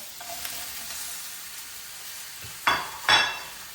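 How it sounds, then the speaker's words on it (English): Onions go into a hot frying pan for chicken jalfrezi, giving a low steady sizzle followed by two sharp bursts of crackling near the end, with no talk. "now I'm going to add the onions in as well."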